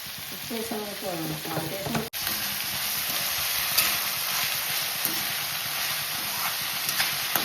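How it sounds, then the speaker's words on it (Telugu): Tomatoes sizzle and hiss in a hot pan with salt, a loud, continuous frying crackle with occasional stirring knocks; a brief voice is heard near the start. "ఈ టమాటాలు వేగుతున్నప్పుడే ఇవన్నీ త్వరగా వేగడానికి టేస్ట్ సరిపడా సాల్ట్ వేసేసేయండి"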